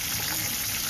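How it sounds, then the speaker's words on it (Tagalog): Steady crackling sizzle of fish frying in a hot pan, dense and continuous, with no talk over it. "Prito-prito lang. Simple luto."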